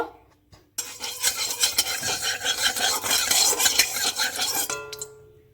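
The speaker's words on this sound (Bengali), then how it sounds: "কড়াইতে তেল দিয়ে নিয়েছি তেলটা একটু নাড়া দিয়ে নেব" A utensil scrapes and stirs through hot oil in a wok, making steady metallic rasping strokes with light clinks, close and fairly loud, then stopping near the end.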